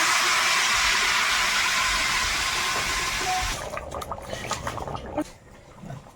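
Water poured into a pan of frying pumpkin roars as a loud, wide hissing rush for several seconds, then drops to a softer bubbling with scattered crackles and stirring clicks.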